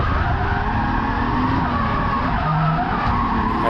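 A drift car runs its first dry lap of a track at a drift event, with a loud, continuous engine roar and tire skidding that holds steady throughout, and no talk.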